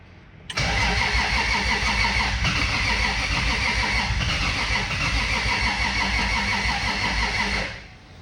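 Lexus IS300 with a turbocharged 2JZ-GE engine cranking on a weak battery during a first start. A sustained, even churn of the engine turning over runs loud and close for about seven seconds, then cuts off.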